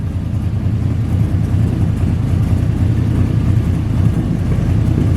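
An 8.1 big block V8 swapped into a Ford F-350 ramp truck rumbles loudly and steadily just after its first start, a deep continuous idle with no voices.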